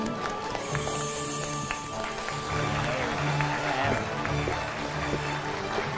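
A studio audience applauds on a Vietnamese television matchmaking show with steady, dense clapping throughout, while a host talks and music plays over it.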